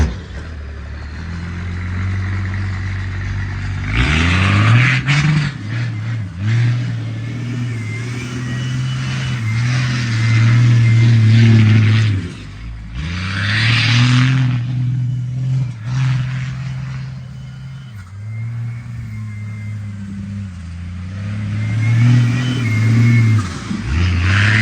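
A 12-valve Cummins diesel truck with big injectors and fuel pump revs hard while doing donuts, its loud engine surging and dropping in repeated waves of acceleration over a steady low rumble.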